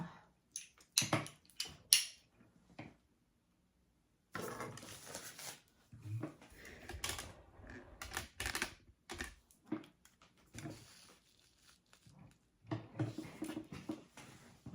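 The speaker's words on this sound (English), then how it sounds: "now we are going to sew around our zipper rectangle shape on this side" A sewing machine stitches around a zipper rectangle on a fabric pouch, running in several short bursts of rapid clatter separated by pauses, fairly close and without talk.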